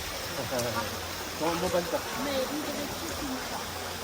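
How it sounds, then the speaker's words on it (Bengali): Water from a waterfall in a Guangzhou, China park flows down in a steady, soft rushing wash that stays constant in the background while people talk nearby. "এই পানিটা এদিক দিয়ে পানি প্রবাহটা গিয়ে নামছে নিচে দেখার মতো একটি ঝর্ণা"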